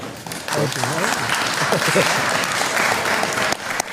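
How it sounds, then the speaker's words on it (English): A studio audience applauds during a televised interview, loud, sustained clapping that swells and holds with a voice talking over part of it. "They're allowed to applaud. You guys can keep applauding."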